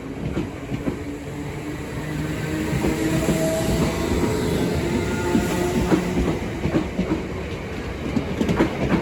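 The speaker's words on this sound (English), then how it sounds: "Now departing is the 1356 Southern service from London Victoria to London Bridge." A Southern passenger train departs Sydenham station, a steady close rumble of wheels and rolling stock with rhythmic clicks over rail joints and brief squeals, continuous and loud throughout with no voices.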